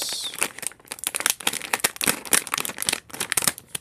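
Crinkly plastic packaging of a toy doll crackles and snips under scissors in a dense, irregular rush of rustling close up, with brief pauses.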